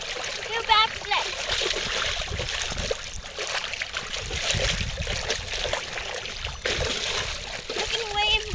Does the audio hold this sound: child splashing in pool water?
yes